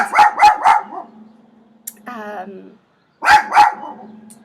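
A dog in a home where a tarot reading is underway lets out rapid barks in two clusters, loud and close, with a short whine between them.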